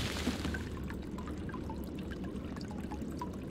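Water pouring as an empty bottle is filled in the Shadowgate PC video game: a continuous soft splashing trickle with small bubbly drips, steady and fairly quiet, with no one speaking.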